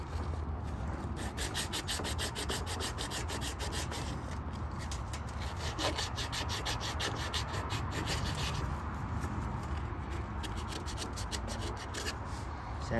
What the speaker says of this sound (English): Sand it down the same way.